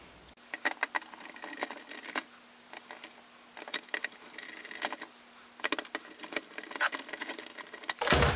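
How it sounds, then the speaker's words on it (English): Three screws being driven into an Artemis blaster assembly, a run of short whirring and clicking bursts with pauses between, close-up and moderately loud, no talking. "And now we can put our final 3 screws in."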